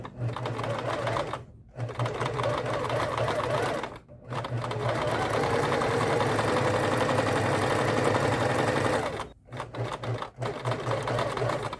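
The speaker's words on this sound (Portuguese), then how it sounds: "Esse então foi o procedimento de fazer a passagem de linha e encher a bobina no modelo Singer M2605" A Singer M2605 sewing machine runs fast and steady while winding its bobbin, a close mechanical whirring buzz in long stretches broken by several brief pauses.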